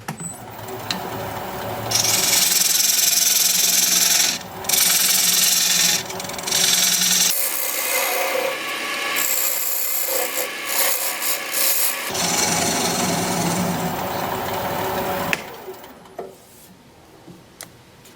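A dovetail tool cuts into a walnut bowl spinning on a wood lathe, giving loud, harsh scraping and rasping in long bursts separated by brief pauses, then fading as the cutting stops near the end.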